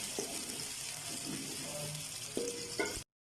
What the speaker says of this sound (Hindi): और इसमें प्याज डालूंगी। और हल्का गोल्डन होने तक इसको पकाऊंगी।